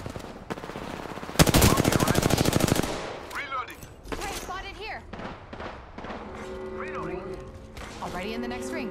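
Automatic gunfire from the Apex Legends battle royale game, a dense rapid burst around the middle followed by scattered in-game effects and character callouts, fairly loud and close.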